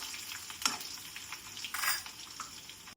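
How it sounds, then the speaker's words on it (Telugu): A faint, steady crackle of garlic and dried red chillies frying in hot oil for a Telugu tempering, with a sharp spoon clink and a brief louder burst of sizzling as ingredients are stirred in. "నూనె కాగాక పోపు వేగిన తర్వాతకి వెల్లుల్లి, ఎండుమిర్చి వేసుకుందాం"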